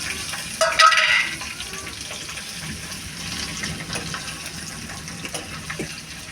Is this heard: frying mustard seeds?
yes